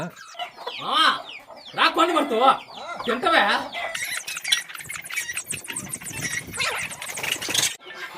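Chickens cluck and squawk loudly and excitedly up close, with frantic flapping and scuffling, while people talk over the commotion.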